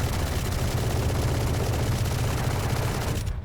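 An Odin machine gun in Valorant fires a dense, unbroken burst of rapid shots, loud and close, before cutting off abruptly at the end.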